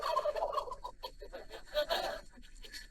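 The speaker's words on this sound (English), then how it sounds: "You picked two great turkeys." Turkeys at a Thanksgiving turkey pardon gobbling and clucking in repeated bursts, fairly close and steady, with no talk over them.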